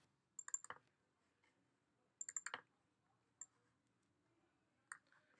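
Short bursts of key clicks on a Mac computer keyboard, a quick cluster of taps, a pause, another cluster, then two single taps, close and crisp in a quiet room.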